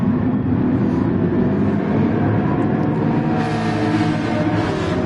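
Racing car engines roar together at the start of a wet race in a PS4 racing video game, a dense, steady, loud engine drone throughout with no speech.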